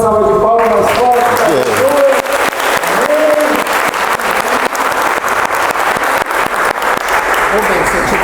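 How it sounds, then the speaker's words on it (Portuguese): A loud, sustained round of applause from an audience at a talk about faith and medicine, dense clapping filling the space at high volume, with a voice trailing off at the very start and crowd noise underneath throughout. "Vamos dar mais uma salva de palmas mais forte."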